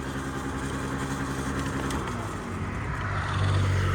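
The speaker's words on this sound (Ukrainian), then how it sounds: "Високі оберти на двигунчику" A Yamaha Jog SA16 scooter from Japan runs steadily at high revs, its small engine droning loud and close with a constant whine, pitch dipping slightly toward the end.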